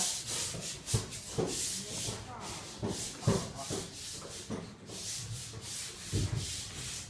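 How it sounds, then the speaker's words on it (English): Wood being sanded by hand in an old Song Dynasty Taoist temple, a series of close rhythmic rubbing strokes, rasping back and forth with brief pauses between. "That's kind of cool to see it being sanded."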